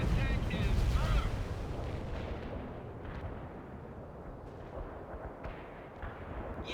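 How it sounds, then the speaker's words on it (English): Bomb payload exploding in the World in Conflict video game, a heavy close blast at the start that fades into rolling rumble, with voices talking over it. "We're dropping our payload. Take cover down there."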